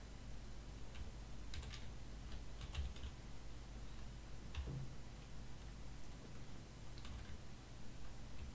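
Someone types a login and password on a computer keyboard, a handful of faint, sparse key clicks in short bursts over a steady background hiss.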